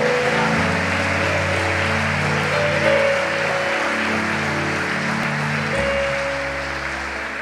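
A church congregation applauds and cheers during an anniversary worship service, a steady broadband wash of clapping that runs throughout, with sustained music tones underneath.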